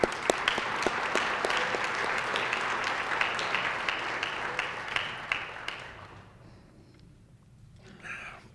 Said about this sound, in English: So give that a round of applause